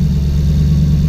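V8 engine swapped into a Porsche 986 Boxster track car, running with a loud, steady low-pitched rumble and firm idle burble held close and alone for about a second.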